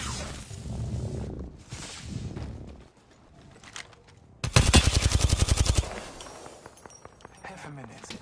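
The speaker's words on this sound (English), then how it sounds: "I'm taking fire." Automatic gunfire in Halo Infinite, a loud rapid burst of evenly spaced shots with impacts and movement sounds around it, while someone talks over the gameplay.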